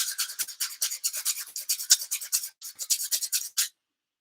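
Rhythmic rasping strokes of hand sanding on a dodo sculpture, a steady back-and-forth scratching of about twenty quick passes, close up, then it stops.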